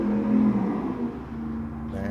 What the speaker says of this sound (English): Damn, that's a loud car.